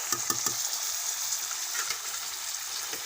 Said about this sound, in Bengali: চিকেনটা তেলের উপরে ভাজা ভাজা করে নিচ্ছি